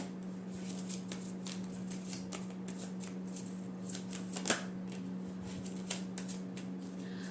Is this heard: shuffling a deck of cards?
yes